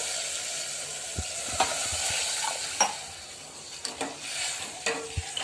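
Water added to a dal tempering in a hot pan, giving a close steady sizzle with irregular stirring scrapes and clinks of a spoon, no talking.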